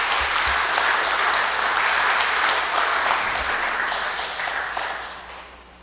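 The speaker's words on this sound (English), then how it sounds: "Big round of applause for Mr." Sustained audience applause fills a conference hall at the opening program of the 4th Pacific Islands Parliaments Group Conference. It stays dense and steady, then gradually fades toward the end.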